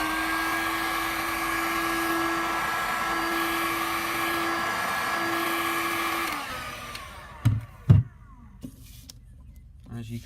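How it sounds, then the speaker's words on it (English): A heat gun blows steadily with a droning whine and tonal hum while warming a cast epoxy resin ribbon for pen turning, then cuts off partway through, followed by a few sharp knocks and quiet handling sounds. "turn on the heat gun."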